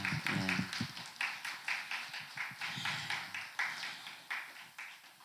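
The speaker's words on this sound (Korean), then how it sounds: "우리 다시 한번 우리 뜨거운 우리 격려의 박수 한번 부탁드리겠습니다" Church congregation applauding at a Sunday service, a quiet cluster of hands in roomy acoustics settling into a slow, regular rhythmic clap, with a brief murmur at the start.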